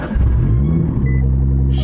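A Nissan GT-R R35 engine fires up close by, a deep rumbling roar that swells and then settles into a loud, steady low drone, with a short hiss at the end.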